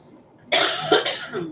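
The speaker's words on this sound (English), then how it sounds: "I feel like I'm going to cough" One close, sharp cough followed by a short second burst, in an otherwise quiet room.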